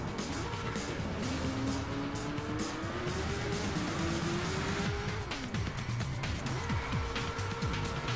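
Motorcycle engine revving and drifting in the racing game DriveClub Bikes, a steady loud engine drone with a rising and falling pitch, tire noise and occasional scrapes, continuous throughout.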